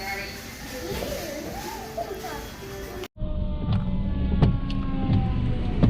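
A fire truck's wailing siren passes a car on a city street on a Saturday, rising and falling over steady road and engine noise before the sound cuts to the louder hum of the moving car.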